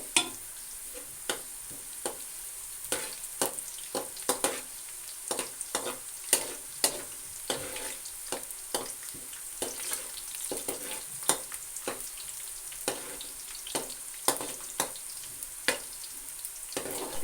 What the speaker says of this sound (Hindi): इसको हम साथ साथ चम्मच चलाते रहेंगे